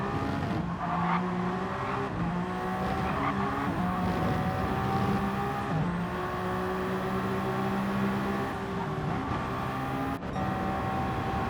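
Ferrari race cars in a racing video game scream past on a circuit near Ascari, with engines revving up and down through gear changes and brief tire squeals, sustained and loud without speech.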